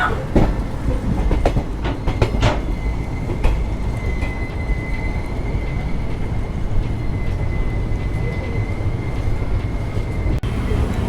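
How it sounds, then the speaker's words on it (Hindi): A Jodhpur express sleeper-class train runs steadily on the rails near Hanumangarh, giving a loud, continuous rumble with sharp wheel clicks and a thin squeal along the track. "तो बिल्कुल ऑन टाइम 2 मिनट रुकने के बाद हमारी ट्रेन हनुमानगढ़ से भी निकल चुकी है"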